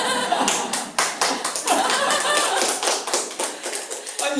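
Audience applause fills the room, loud and sustained, with many hands clapping at once in a dense rolling patter and faint chuckles underneath.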